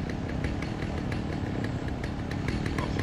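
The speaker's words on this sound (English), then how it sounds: "Hopefully I can find this little sneaky little chainsaw man. He sounds like he's getting louder." A chainsaw-wielding enemy in the Alan Wake game keeps his saw running at a sawmill, a steady buzzing engine drone that holds at constant loudness with faint rhythmic ticks throughout.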